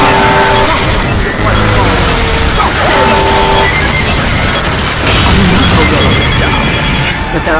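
A bomb being deployed in Team Fortress 2 Mann vs. Machine, with loud in-game booms, crashes and mechanical clanks layered over battle noise and a voice talking.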